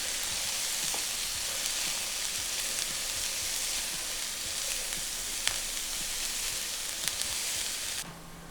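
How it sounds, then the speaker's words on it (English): Onions and peppers sauté in hot bacon grease with a steady, close crackling sizzle and occasional pops and stirring scrapes, dropping off abruptly at the end. "We wanna saute these onions and peppers in this bacon grease for about 3 to 4 minutes."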